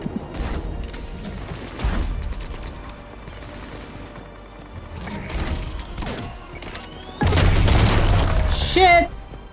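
Gunfire and heavy blasts in Mass Effect 3 rattle in uneven bursts aimed at the player, with a loud crashing surge near the end, while a person talks over the action.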